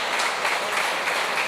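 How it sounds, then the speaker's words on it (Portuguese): A church congregation applauding at a Wednesday worship service, a dense continuous wash of many hands clapping, fairly close and steady. "Aplauda Ele, aplauda Jesus,"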